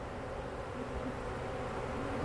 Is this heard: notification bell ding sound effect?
no